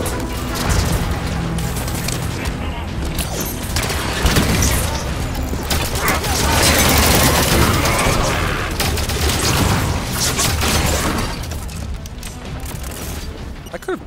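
Bolt shot pistol fire in the Halo 5: Guardians campaign, a dense stretch of repeated energy shots and impacts layered over loud game effects and music, steady and busy throughout with a slight drop near the end.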